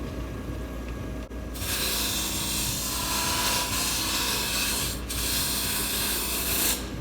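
A skew chisel cuts wood spinning on a lathe, producing a loud, steady rasping hiss that runs continuously with two brief breaks where the blade lifts off the workpiece.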